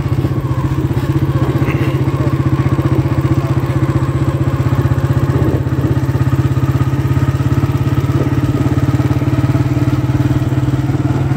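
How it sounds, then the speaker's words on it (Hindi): A tractor engine runs out in farm fields, its loud, steady, throbbing drone held close and constant the whole time, with no talking over it. "वो ट्रैक्टर चलाउण दिया भाई।"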